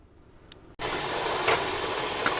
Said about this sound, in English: we've got full pressure steam coming out.